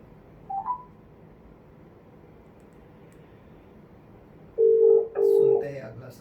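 A short beep, then a quiet pause, followed by two louder telephone keypad tones in quick succession over a low background hum.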